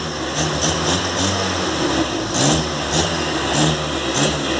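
A Volkswagen Golf MK3 single-point injection engine, warmed up after an idle misfire was fixed, revs up and down in repeated close blips over a steady mid-pitched running note, with no talk.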